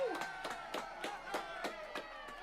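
Audience claps after a performance in a steady train of sharp, evenly spaced hand claps, fairly close and moderately loud, with a faint crowd murmur beneath.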